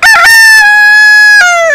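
A single loud, close rooster crow, one long drawn-out cock-a-doodle-doo with a clucking start and a falling tail, heard alone.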